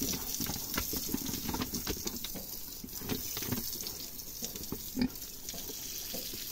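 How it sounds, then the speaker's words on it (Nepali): Water is poured and splashed over a restless, struggling pig during a bath in hot weather, with grunts mixed into the steady running water. "बदमास छ यो सुँगुर चाहिँ अलिक।"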